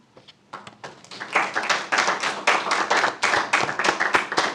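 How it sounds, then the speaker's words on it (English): Attendees at a city council meeting break into applause after a proclamation, starting with a few scattered claps that grow into steady group clapping in a room with some reverberation. "I know you're all applauding because I'm done with that proclamation"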